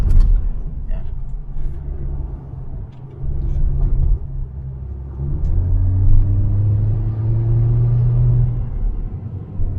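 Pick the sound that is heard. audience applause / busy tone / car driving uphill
car driving uphill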